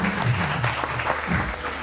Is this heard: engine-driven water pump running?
no